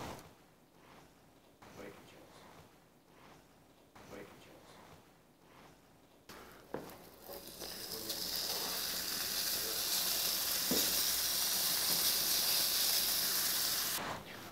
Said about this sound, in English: I'm gonna take them over and put them in that bacon fat, the bacon chunks. Can hear them sizzling.